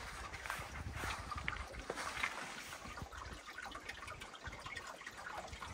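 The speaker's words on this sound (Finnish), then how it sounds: "Hauska solina kuuluu tuolta Pirunpellon alta. Siellä menee puro." A brook babbling deep beneath a boulder field in a national park, a faint, continuous trickle and gurgle heard from a distance.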